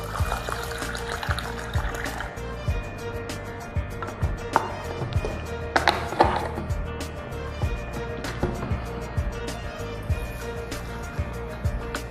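Water pours steadily over rice as it is washed, a continuous trickle and splash with a few louder clinks and splashes along the way.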